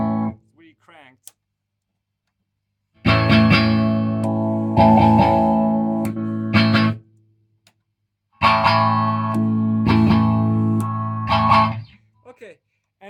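An electric guitar played through a Vox Defiant amp with the boost engaged rings out in two loud, heavily driven bursts of chords and notes, separated by near-silent pauses.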